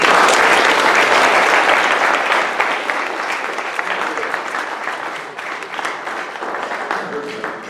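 An audience at a beach community meeting gives sustained applause, loud and dense at first and gradually thinning over nearly eight seconds, with faint voices mixed in underneath.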